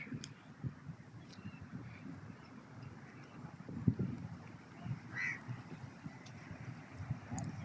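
Ducks quack and honk intermittently around a water bowl in a park in Jubail, Saudi Arabia, set against a low murmur of outdoor background noise, with no clear voices.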